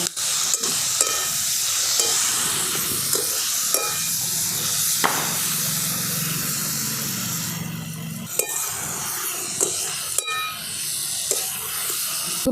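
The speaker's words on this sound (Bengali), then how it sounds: "অল্প একটুখানি ধনে গুঁড়ো অল্প একটু জিরে গুঁড়ো সমস্ত কিছু আমি একসঙ্গে খুব ভালোভাবে কষিয়ে নেব" Ground coriander and cumin fry hard in hot oil while a spatula stirs and scrapes the pan steadily, with a close, continuous sizzle and regular clicks of the utensil on the pan.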